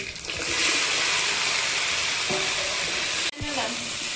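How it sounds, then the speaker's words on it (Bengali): Okra with dried chili and cumin seeds sizzles loudly in hot oil in a wok, a dense continuous hiss broken by a few stirring scrapes and a brief clunk near the end. "কড়াইতে তেল দিয়ে দিচ্ছি, ভেন্ডির তরকারিটা রান্না করে নেব। লঙ্কা আর জিরে, ভেন্ডি"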